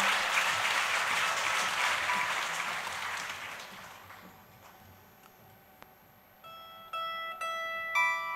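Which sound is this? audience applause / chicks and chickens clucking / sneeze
audience applause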